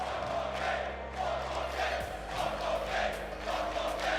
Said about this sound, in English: I think the crowd had something to say.